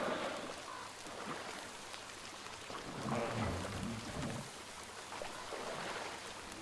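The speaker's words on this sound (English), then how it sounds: "It's raining pretty rough right now." Heavy rain in Metro Exodus, a steady hiss of falling water with splashing drops and faint low rumbles, continuous and moderately loud.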